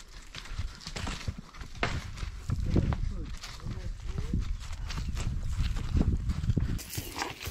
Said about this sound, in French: Donc on est sur les chevaux.